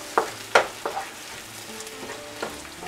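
Chopped tomatoes tipped onto softened onions in a pan for Kathiyawadi eggplant curry, a few sharp clatters of stirring over a soft, low sizzle, close up and without talk.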